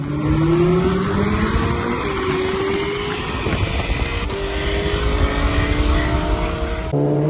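Roaring engines of a motorcycle, a Kawasaki ZX12R, and a car in a drag race, rising in pitch as they accelerate together, loud and continuous throughout.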